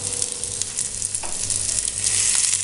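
Prawns tikka sizzle in oil on a hot tawa while being pressed down, giving a steady bright crackle and hiss with small scraping and tapping sounds from the utensil, close up and without talk.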